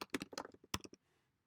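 Someone types on a computer keyboard while filling in form fields: a quick, uneven burst of crisp key clicks, near and fairly quiet, then a brief pause into silence.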